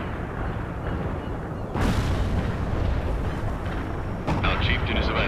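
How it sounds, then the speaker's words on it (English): Napalm strike explosions in the strategy video game World in Conflict, heard as a sudden loud burst of fiery rumble at about two seconds and another near the end, over continuous battle noise and game radio chatter. "Napalm deployed right on the mark."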